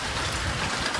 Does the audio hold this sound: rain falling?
yes